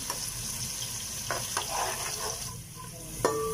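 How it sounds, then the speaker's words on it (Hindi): Onions browning in oil in a pan for a whole masoor dal khichri give a steady, close hiss, broken by a few soft stirring scrapes and a sharp clink near the end. "अब हम इसको ब्राउन करेंगे।"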